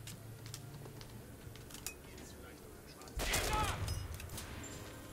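Gunfire in the shooter video game BioShock Infinite, a burst of loud shots erupting after a few quieter scattered pops, with the game's ambient mix underneath.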